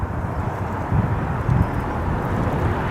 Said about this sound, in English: The wind has really picked up.